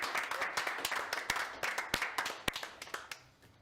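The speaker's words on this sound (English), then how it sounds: "So let's have another round of applause in the studio for Joseph." A small studio audience claps at a live-streamed leadership election results show: fairly quiet, uneven and sparse hand claps with distinct individual slaps, fading out toward the end.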